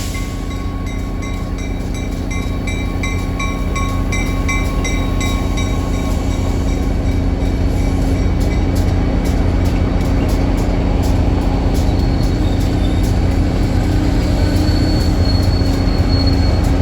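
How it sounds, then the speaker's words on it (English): A CTRail commuter train departs and rolls past at close range, a loud continuous rumble of wheels on rails with rhythmic clicking and occasional metallic squeals. "There's CTRail train 4406 departing for Springfield,"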